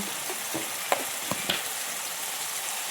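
Blended tomato and onion paste with salt and turmeric fries for a meat curry, a steady bright sizzle in hot oil punctuated by a few sharp spatters and stirring clicks.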